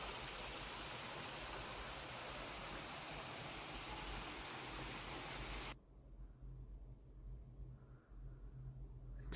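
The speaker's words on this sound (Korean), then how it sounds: "자, 여기가 세련폭포입니다. 굉장히 작은 폭포죠." Small Seryeom Falls on Chiaksan mountain gives a steady, broad rushing of falling water, loud and even for most of the stretch, then dropping abruptly to a softer, duller flow near the end.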